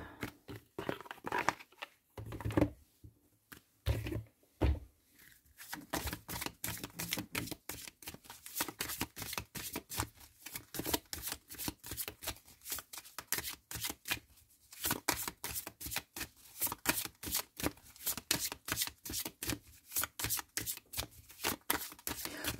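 Tarot cards are shuffled by hand close up: rapid papery riffles and slaps in dense bursts, broken by brief pauses, fairly quiet and continuous.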